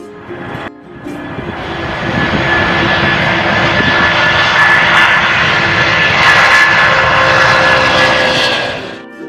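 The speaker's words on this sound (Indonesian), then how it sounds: "J is for jumbo jet," A jumbo jet's engines roar loud and steady for about nine seconds, a broad sustained rushing drone with a faint whine riding on top, swelling slightly and then fading at the end.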